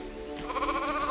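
A sheep bleats in Lego Fortnite as it eats vines, one drawn-out, wavering bleat heard close and alone with no talk over it.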